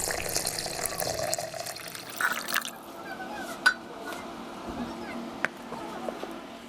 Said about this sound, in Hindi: और साथ पानी डालेंगे।